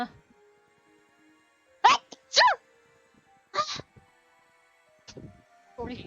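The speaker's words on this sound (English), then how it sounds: "It's a sneeze." A few short, sharp sneeze-like bursts come in quick succession, loud and close, with brief silences between them and a short spoken word at one point.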